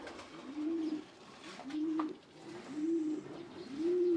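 Pigeons in a breeding loft coo in four steady, rounded phrases about a second apart, close and fairly loud over a soft background rustle.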